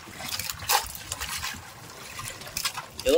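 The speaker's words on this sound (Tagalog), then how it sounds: "Mahugasan natin ng tubig dagat." Seawater poured over freshly caught fish on a fishing boat, a close, uneven splashing trickle with a few brighter gushes, no talk.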